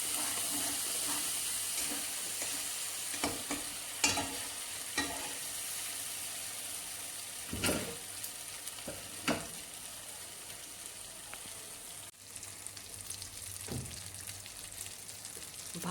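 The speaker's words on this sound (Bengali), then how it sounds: "এইবার আমি নাড়াচাড়া করছি।" A spice paste for boal fish paturi sizzles steadily in a pan. A spoon scrapes and stirs it in scattered clacks and swishes, with a faint trickle of water now and then and no voices.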